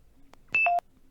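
Police Smart Radio panic button alert in GTA V with the LSPDFR mod: a short electronic tone burst of a few quick stepped beeps, clear and fairly loud against a quiet background, with no talking.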